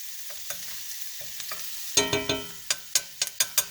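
Chicken browning in a hot pan gives a steady low sizzle, then a run of sharp scraping stirs and taps from a utensil against the pan, close and clear with no talking.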